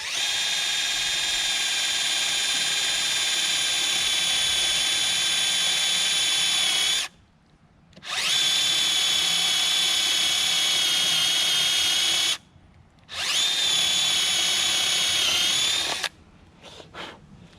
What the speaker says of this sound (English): What we're going to do then is drill a hole